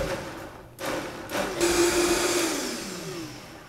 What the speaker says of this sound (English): I say it's just a really high power blender that literally creamed this stuff up.